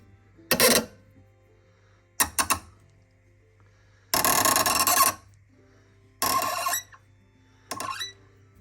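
A hand tap cuts a thread in a part clamped in a vise while a Yamaha 15HP outboard is being repaired, giving five separate bursts of close, rasping, squeaky metal cutting with quiet pauses between them.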